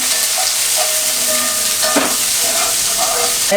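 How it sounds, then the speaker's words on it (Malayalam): Onions with ginger and garlic fry in a seasoned iron pan under a constant close sizzle, with a spoon stirring and scraping now and then against the metal. "നന്നായിട്ടൊന്ന് ഇളക്കി കൊടുക്കാം"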